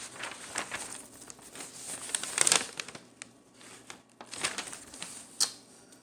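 Paper crinkling and rustling close by as the pages of a folk festival program shift in irregular bursts, with soft handling noises between.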